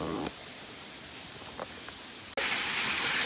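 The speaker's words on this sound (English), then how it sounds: "it's starting to rain" Steady rain hisses over everything on a woodland walking trail, then abruptly becomes louder and brighter, a dense wash of falling water close by.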